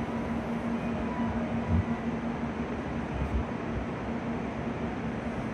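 A low steady rumble of a Nozomi Shinkansen bullet train departing Okayama Station, with faint rhythmic thumps and a constant mechanical hum, heard from inside or nearby at moderate level.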